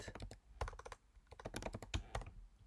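Keyboard keys pressed for the Command Shift M shortcut while working in R, a quick cluster of crisp clicks and taps, close and fairly quiet, with no voice.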